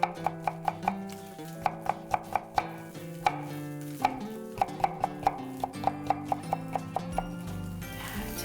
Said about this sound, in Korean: 이렇게 해서 좀 채를 썰어주세요